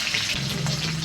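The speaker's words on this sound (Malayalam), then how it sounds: "കടുക് നല്ലതായിട്ട് പൊട്ടി വരുന്നുണ്ട്" Mustard seeds spluttering in hot oil for a gooseberry pickle, a close, steady sizzle with scattered tiny pops throughout.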